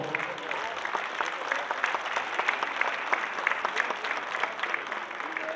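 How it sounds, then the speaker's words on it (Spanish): Applause breaks out after a ribbon cutting at the opening of a dairy expo, a full, sustained round of clapping from a gathered crowd that stays steady and fairly loud throughout. "Fuertes aplausos, por favor."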